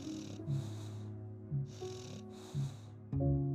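Steady snoring from a sleeper curled up nearby, three or four slow breaths in a regular rhythm with rasping intakes, close and clear over a soft droning background.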